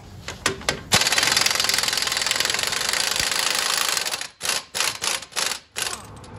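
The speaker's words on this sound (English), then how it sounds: "I'm gonna go ahead and zap this off with my impact." An impact wrench removing a 32mm axle nut from a Nissan Titan, rattling in a loud sustained burst of about three seconds, then breaking into several short hammering bursts as the nut comes free, close by.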